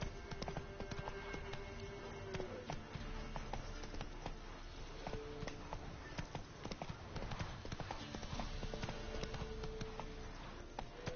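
Horse galloping in the video game The Witcher 3, a steady rapid clip-clop of hooves running continuously through the whole stretch, moderately loud with game ambience and a faint voice now and then.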